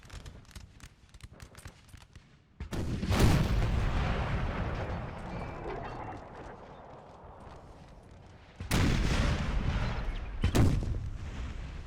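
Artillery fire in a Napoleonic Total War 3 battle: heavy, booming cannon volleys erupting in two loud bursts over a constant din of distant gunfire and battle noise, with scattered sharp reports in the quieter stretches.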